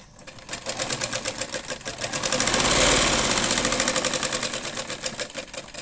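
A sewing machine stitching the shoulder seam of a blouse runs in a loud, rapid, even needle rhythm, speeding up and easing off again over several seconds, close by and without talking.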